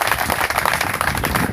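A burst of lively applause from a conference audience, many hands clapping quickly and unevenly, fairly close and loud for the whole moment.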